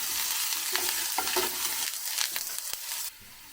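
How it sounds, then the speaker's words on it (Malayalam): Ginger garlic paste sizzling in hot oil in a pan just after mustard seeds have spluttered, a steady close frying hiss with brief stirring scrapes, no talking. "കടുക് കൊണ്ട് പൊട്ടിക്കഴിയുമ്പോൾ നമുക്ക് അതിനകത്തേക്ക് ഇഞ്ചി വെളുത്തുള്ളി പേസ്റ്റ് നമുക്കിട്ട്"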